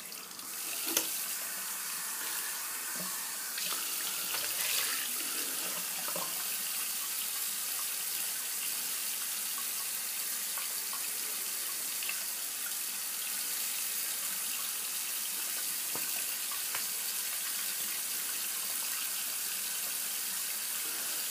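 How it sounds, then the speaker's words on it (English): Tap water runs steadily into a sink as a face is rinsed after a wet shave, a soft continuous stream with occasional splashes, no talking. "Rinse that off. I'm going to rinse off my face here."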